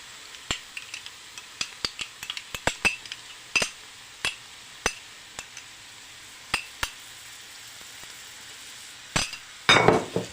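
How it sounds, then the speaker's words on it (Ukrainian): Tomato stirred into onion and carrot frying in a pan, a soft sizzle under repeated sharp clinks and taps of a utensil against the pan, close and irregular, with no talking. "Так, томат весь отак от пережарюємо з морквочкою, щоб він нагрівся"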